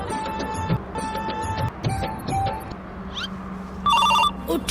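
A phone ringing during a call, the ring tone repeating in a steady pattern, fairly loud and close, with a brighter electronic tone bursting in near the end; no talking over it.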